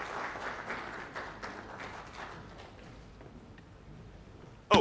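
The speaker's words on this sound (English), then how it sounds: "a bigger round of applause" Applause from an audience at an oil summit in Ghana, steady at first and then gradually thinning and fading out, ending with a sharp knock.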